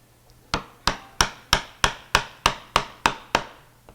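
Chisel struck with a mallet to cut a mortise in wood: ten sharp, evenly spaced knocks, about three per second, close and clear with quiet gaps between them.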